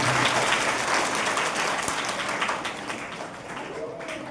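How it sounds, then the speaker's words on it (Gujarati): A school audience claps at a high school enrollment and girls' education festival, with steady dense applause filling the room before slowly thinning out, along with some crowd murmur. "તાળી પાડો."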